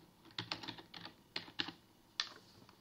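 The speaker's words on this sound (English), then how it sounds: "And on the value, type your password." Quiet, close keystrokes on a computer keyboard as a password is typed, in short bursts of several clicks separated by brief pauses.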